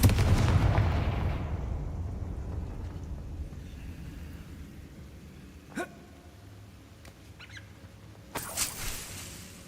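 A Confringo spell blast in Hogwarts Legacy, a loud booming burst at the start that decays into quiet, followed by a couple of sharp cracks and a brief rattling impact near the end.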